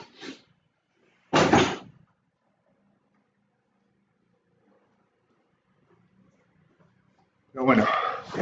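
A dog barks and a door opens indoors in a home, short loud bursts separated by a long quiet gap, with a person speaking nearby.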